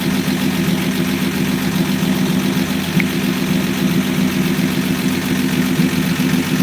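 A 1965 Dodge Dart's 225 cubic-inch slant-six engine idles steadily, warmed up, with a loud, close, even low rumble and a faint regular tick, no voices over it.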